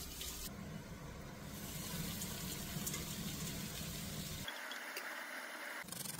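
Spinach is rinsed under a running tap, water gushing and splashing steadily nearby, the flow changing tone briefly near the end.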